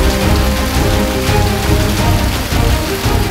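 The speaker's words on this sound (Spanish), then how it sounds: "con esta lluvia que está cayendo" Steady rain falls throughout at an even, fairly loud level, a dense continuous patter with no pauses and no voices.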